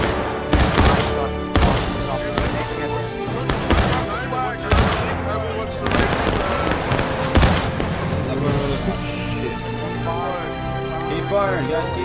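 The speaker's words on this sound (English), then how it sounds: "Keep firing, guys." Musket volleys in a War of Rights battle at Little Round Top crack repeatedly, some close and loud and others farther off, over a dense background of gunfire and shouting voices.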